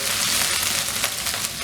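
Garlic and ginger paste sizzling in hot oil for egg korma, a bright steady crackle with small popping spikes, close and alone without any talking.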